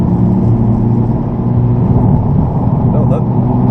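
A Nissan GTR's engine drones loud and steady under acceleration, heard from inside the car with a driving instructor talking over it.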